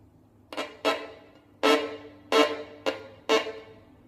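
Several short, scratchy bowed string notes from a heavy bow held in place near the bridge, each tone cracking and breaking rather than sounding cleanly. Six separate strokes come up close and fairly quiet, with gaps between them.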